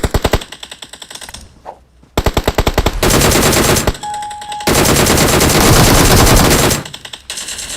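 Rapid automatic gunfire from the mobile battle royale game PUBG Mobile, loud and close, in repeated sustained bursts with short gaps and a brief pause before heavier continuous firing.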